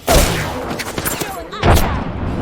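Gunfire in the Apex Legends video game, loud close shots with heavy booming impacts, one burst at the start and another after a short gap, with scattered cracks in between.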